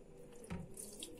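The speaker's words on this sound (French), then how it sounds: "il faut vider la machine à ultrason" Water running steadily from an emptied ultrasonic jewelry cleaning machine into a sink, a continuous close splashing flow with a brief louder gush partway through.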